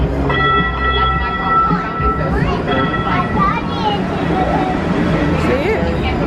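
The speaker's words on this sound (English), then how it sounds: "Oh. Riding on a train." Passengers ride a moving train, a continuous rumble of rail cars with squealing wheel tones and clatter, as an adult and someone talk close by.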